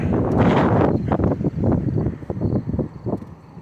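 Gusty wind by Coney Island buffets the microphone in loud, rough bursts that swell and ease over several seconds, with no voice heard.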